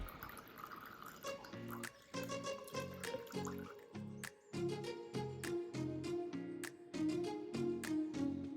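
Ginger juice drips and trickles while being strained, a run of quiet close liquid drips and small splashes in an irregular rhythm, with tonal musical notes underneath.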